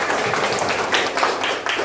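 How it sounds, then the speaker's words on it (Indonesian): Students in a classroom clap together, a loud, dense burst of overlapping hand claps lasting about two seconds with slight surges in intensity. "tepuk tangan untuk kita semua"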